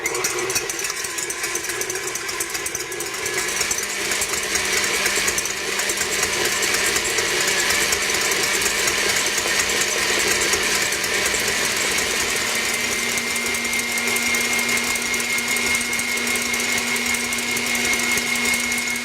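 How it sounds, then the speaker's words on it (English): An electric mixer with a whisk attachment whips a mixture to soft peaks while sugar is added gradually, giving a constant mid-level motor whine that holds steady for nearly twenty seconds. "put on our whisk attachment, and when this gets a little foamy, then we're going to add our sugar gradually"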